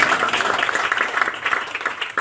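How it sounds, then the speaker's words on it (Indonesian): Church congregation clapping together in praise, a dense burst of applause that holds steady for a couple of seconds, filling the room. "Beri tepuk tangan bagi kemuliaan Tuhan."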